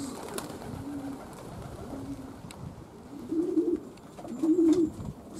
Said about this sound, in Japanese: 霧雨の中を飛び回る鳩たちです。